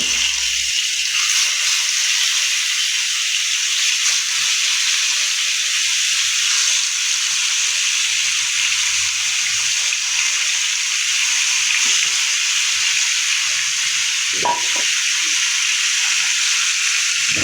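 Marinated swarputi fish fries in hot oil, a loud, steady high hiss of sizzling that runs unbroken from start to finish, close up with only faint clinks and no talking.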